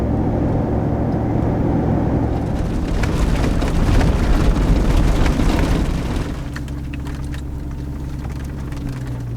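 Chevrolet Suburban SUV driving through mud puddles on a rough, bad road; a loud continuous roar of engine and tyres, swelling with a splashing, rumbling surge midway, then settling back to a steadier drone.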